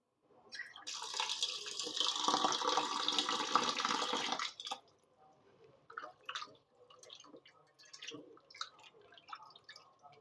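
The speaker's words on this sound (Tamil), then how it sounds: "அதை இப்போ மஞ்சள்தூள் போட்டு கழுவி எடுத்துக்கலாம்." Raw liver being washed in water with turmeric powder: a loud burst of splashing, running water for a few seconds, then quieter intermittent drips and handling sounds close by.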